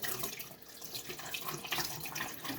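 Tap water splashes continuously onto a Coticule sharpening stone at a sink, a close, steady hiss and patter with no talking.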